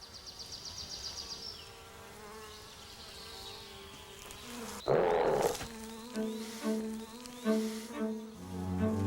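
Bees buzz around a beehive in the wild, a close droning hum joined by louder bursts of rustling and knocking as the hive is disturbed.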